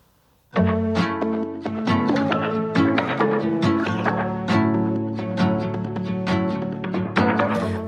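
A dense, rhythmic music loop starts abruptly after a brief silence, with choppy, stuttering guitar-like hits repeating over a steady beat.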